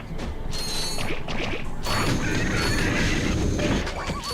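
Pyrocitor flamethrower firing in the Ratchet & Clank video game, a dense roaring burst with clanking mechanical hits layered over game action, loud and sustained for several seconds.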